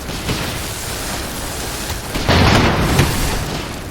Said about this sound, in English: Let's drop those bombs.